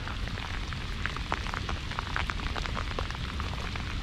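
Steady rain pours down outdoors during a seabass fishing outing, a dense continuous patter with scattered sharper drops hitting surfaces, fairly loud and close with no voices.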